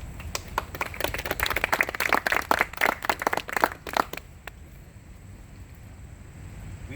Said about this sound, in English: and they should be applauded